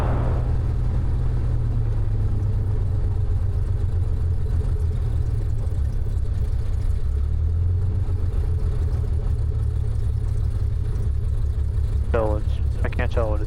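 A small training aircraft's piston engine idles on the ground at night, a steady low rumble that runs continuously throughout, with a few brief sharp chirps near the end.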